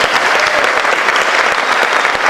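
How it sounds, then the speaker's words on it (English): A variety show audience gives a loud, continuous round of applause, a dense wash of clapping with no break across its whole length. "Yeah, round of applause."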